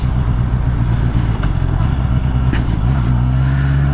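A Honda CBR650R four-cylinder sport motorcycle, restricted for an A2 licence, runs close by with a loud steady low engine drone, a slight rise in revs near the end, and no talk over it.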